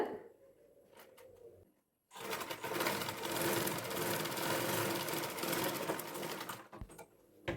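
Sewing machine running in one long continuous burst while stitching a blouse neckline, loud and steady after a quiet pause with soft background noise.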